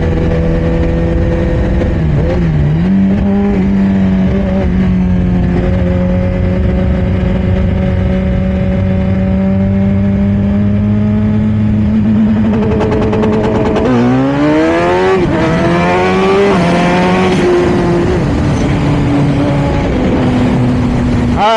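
A Suzuki GSX-R 1000 motorcycle holds a loud buzzing two-step rev limit near 6,500 rpm, then launches hard with the engine climbing through sweeping revs, close and continuous.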